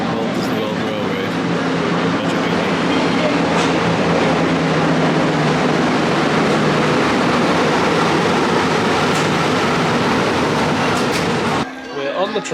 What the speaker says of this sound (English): Very rickety, this train.